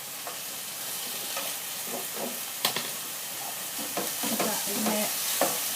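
Lamb mince browns in a pan with garlic and cinnamon, giving a steady sizzle with scraping stirs and a few sharp clacks, while a voice speaks briefly.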